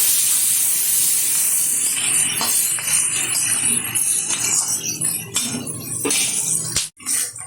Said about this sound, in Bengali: পেঁয়াজটা একটু নেড়ে চেড়ে নিয়েছি হালকা ভাজা হয়েছে